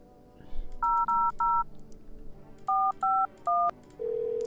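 Telephone keypad tones sound while someone dials in the video game No I'm Not a Human: two quick bursts of three crisp beeps, then a steady ringing tone begins at the end.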